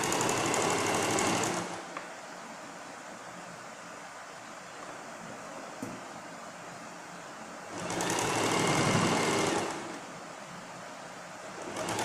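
A sewing machine stitches blouse sleeves in two loud whirring runs with a pause between them. The quieter gap suggests the reverse stitch.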